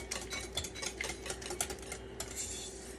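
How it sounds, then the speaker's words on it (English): Melted butter being quickly whisked into popover batter, a fast steady run of light ticking, scraping strokes against a bowl, close and soft over a faint hum, with no one talking. "I'm just going to mix that in quickly so it's incorporated."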